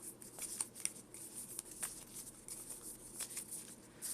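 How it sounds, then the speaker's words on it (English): A Pokemon trading card deck is shuffled, giving a continuous run of soft riffling and flicking card sounds with small sharp taps, steady and close with no talking. "Let's shuffle."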